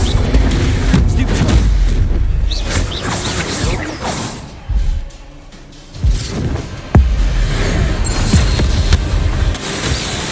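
Bombarda spell explosions in Hogwarts Legacy, with deep booms and crashing impacts over a loud game soundscape, plus a sharp blast near the seven-second mark and a brief quieter gap before it.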